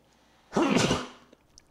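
One close sneeze, a short burst of breathy, throaty noise that fades quickly, with quiet room sounds around it.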